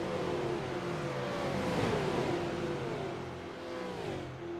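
Supercar engines in a racing video game at Charlotte Motor Speedway hum and rev steadily as cars run in line, a continuous layered engine drone with shifting pitch.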